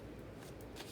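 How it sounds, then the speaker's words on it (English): Tarot cards are shuffled close by, a brief dense riffling and rustling lasting about a second. "Three shuffles."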